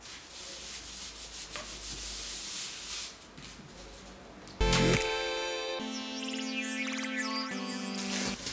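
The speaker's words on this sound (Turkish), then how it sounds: "Siz de burada gördüğünüz bütün beyaz alanları tek tek dikkatli bir şekilde neşterle çıkartıyorsunuz." Scalpel slicing the white areas out of cardboard for a wall decoration: faint, close scratching and rubbing strokes for a few seconds, then tonal music takes over.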